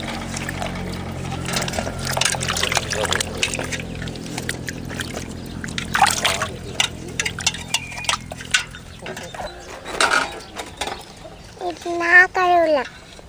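Water runs and splashes during washing at home, mixed with clinks of pots and utensils. Voices speak in short bursts throughout.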